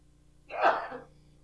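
A single short, sharp cough from a person, close and fairly loud, lasting well under a second against near silence.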